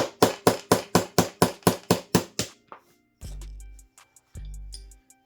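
A CZ P10S pistol sight struck hard to knock it off, about ten sharp metallic blows in a fast, even series, then a pause and a few scattered ringing taps and clunks, close and clear.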